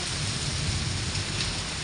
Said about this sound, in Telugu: ఇంక వర్షం అయితే విపరీతంగా పడుతుంది